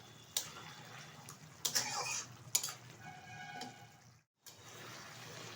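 Paneer gravy with chili flakes being stirred in a pan, with a few scraping and clinking strokes of a utensil over a quiet kitchen background and a brief gap near the end.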